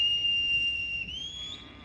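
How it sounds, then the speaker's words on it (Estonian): A shepherd's herding whistle signals commands to a sheepdog: one sustained, piercing high tone held for nearly two seconds, bending slightly upward near the end, close and clear over a low outdoor rumble with no talking. "Ja oma vilega ta annab märku koerale, kuhu ta peab liikuma."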